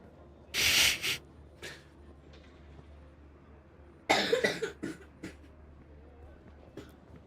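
A person coughs in two separate bursts, a short harsh fit early and a longer run of several coughs a few seconds later, in a quiet room with faint background noise between them.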